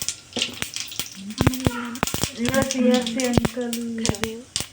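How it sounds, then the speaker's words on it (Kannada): Cumin and mustard seeds hit hot oil for tempering, with sharp scattered pops and crackles close by while a person talks over them. "ಜೀರಿಗೆ ಸಾಸಿವೆ ಹಾಕೊಳ್ಳಿ"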